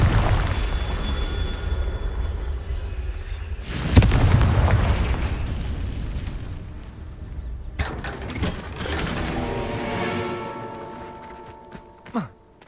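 Confringo fire spells explode in Hogwarts Legacy, with a heavy boom near the start of the fourth second, rumbling blasts, then sharp crackling bursts and magical ringing tones later, with game ambience throughout.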